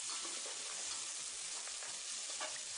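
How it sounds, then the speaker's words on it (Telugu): Soaked chana dal and potato pieces fry in a hot pan with a steady, dense sizzle and crackle that holds at an even level throughout, with no voices over it. "మనం ముందుగా నానబెట్టి ఉంచుకున్న పచ్చిశనగపప్పును వేసుకొని బాగా వేపుకోవాలి"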